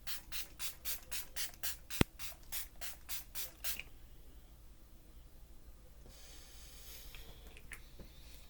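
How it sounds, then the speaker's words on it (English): e.l.f. setting spray pumped over makeup in about nine quick, evenly spaced bursts, close and crisp, followed by a faint lingering hiss. "I'm using an e.l.f. setting spray."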